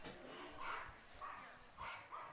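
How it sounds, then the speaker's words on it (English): Dogs bark at a summer collegiate baseball game, a few short distant barks and yips in quick bursts over faint crowd ambience. "now we got dogs barking at poor Ty Kennedy"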